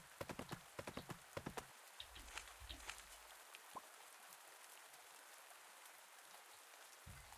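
Horse hooves clop in a quick run of sharp, close steps at the start in the video game Pumpkin Days. They fade into a steady patter of rain with a few scattered clops.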